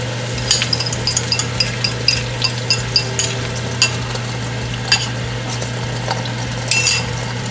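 Egg being stirred in a hot, smoking pan for fried rice, with a steady sizzle under repeated quick scraping and clinking strokes of the utensil against the pan, close and fairly loud, no talking.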